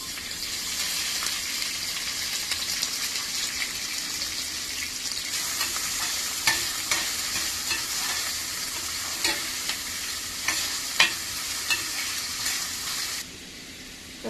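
Chopped onion sizzles steadily in hot oil while making Indian-style veg pasta, with scattered clicks and scrapes of stirring close by. No one speaks, and the sizzle cuts off near the end.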